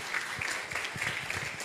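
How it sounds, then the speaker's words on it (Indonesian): An audience applauding a speaker at an event: brief, dense clapping from many hands, steady and fairly loud throughout. "Beri aplaus buat Pak Ali."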